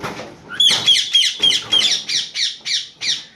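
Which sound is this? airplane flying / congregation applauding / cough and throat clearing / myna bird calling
myna bird calling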